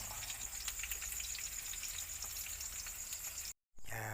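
Eggplant and okra frying in a pan, a dense, steady sizzle like light rain holding for several seconds, then a brief dropout before the crackling resumes.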